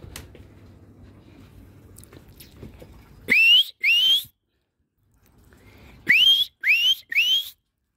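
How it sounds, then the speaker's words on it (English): Five short rising whistles by a person calling a robin, in two bursts of two and three, loud and close against a quiet background. "So you know it's me whistling."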